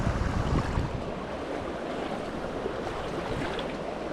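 A small brook trout stream runs high after rain and snowmelt, giving a steady, full rushing wash of water with no voices.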